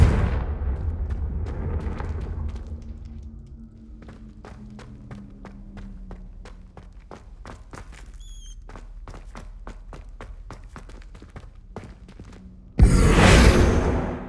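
A Confringo spell explosion in the Hogwarts Legacy video game bursts loudly near the end, following a long run of sharp rhythmic impacts and clattering steps.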